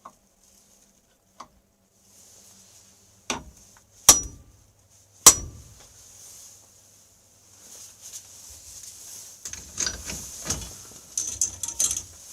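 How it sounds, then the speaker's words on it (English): Sharp metallic hammer strikes on a center punch marking a starting hole in a Polaris XLT snowmobile crankcase, a few isolated taps followed by softer shop handling noises, fairly close with no talk. "we're going to center punch our starting hole"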